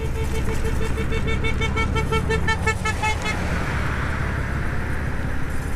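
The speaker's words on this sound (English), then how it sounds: "Why is this person honking at me?" A car horn sounds in a series of repeated short toots over steady road and engine noise, then gives way to continuing traffic rumble.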